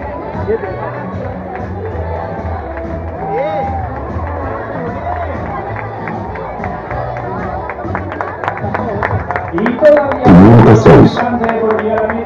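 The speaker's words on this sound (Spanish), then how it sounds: "Aplausos para los compañeros que están finalizando." Crowd applause and cheering for runners finishing a Christmas road race in Rute, a steady bustle of voices and clapping that swells loudly toward the end, with an announcer speaking over it.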